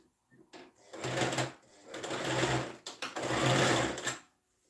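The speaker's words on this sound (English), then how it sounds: "It's sewing now." A sewing machine that is due for oiling and has been acting up stitches a kid's shirt in three close bursts of fast, chattering whir, starting and stopping in quick succession.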